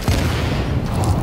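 Grenade explosion in the shooter The Division, a short, heavy, rumbling boom, loud and close, with no talk over it.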